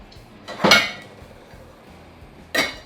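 A lid set onto a pot of simmering ginger syrup, two clinking metal clatters about two seconds apart, close and fairly loud in a quiet kitchen.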